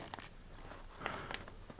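Crinkling and rustling of a thick plastic bag holding mechanical keyboard parts being handled close by, with a few sharper crackles and no talking.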